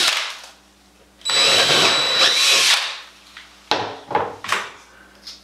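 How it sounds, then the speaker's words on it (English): Power drill with a half inch bit boring through bathroom drywall for a grab bar, a two-second loud whirring burst after quiet, then several short grinding spurts and clunks close by. "So let's get a half inch drill bit,"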